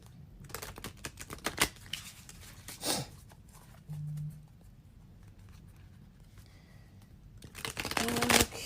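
Thick tarot cards being shuffled by hand, soft quiet riffling and tapping bursts with pauses between, faint and close.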